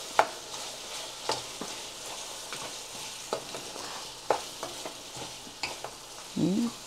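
Lemongrass and chili sputter and crackle in a hot pan, a steady sizzle broken by regular spoon scrapes and stirring knocks, close and fairly quiet, with no voices.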